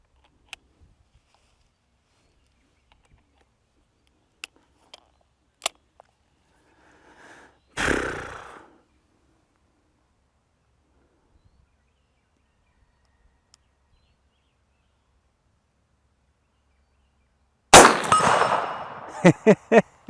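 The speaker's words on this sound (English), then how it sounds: "Shooting a double action 44 Magnum revolver, iron sights." A double-action .44 Magnum revolver fired with iron sights at a target 80 yards away: sharp clicks and small clangs, then a loud blast with decay near 8 seconds and another burst near 18 seconds trailing into several distant metallic rings.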